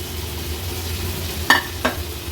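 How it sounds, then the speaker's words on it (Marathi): Cleaned jitada fish is added to oil with ginger, garlic, turmeric and masala and fries in a pan: a steady low sizzle with two quick bursts of spattering or stirring near the end, close and without talk. "तेलामध्ये परतून घेणार आहोत. स्वच्छ धुवून घेतलेली ही जिताड्याची मच्छी आहे ती ॲड करूया."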